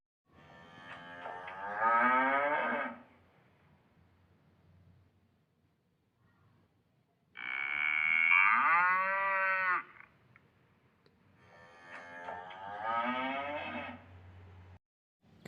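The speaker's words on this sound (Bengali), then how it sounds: "সে গ্রামের মানুষের সামনে গিয়ে জোরে জোরে হাম্বা হাম্বা করতে লাগলো।" Three loud, drawn-out cartoon cow moos, each a couple of seconds long with quiet gaps between, from a cow in a Bengali village animated story.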